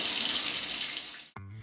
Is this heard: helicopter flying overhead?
no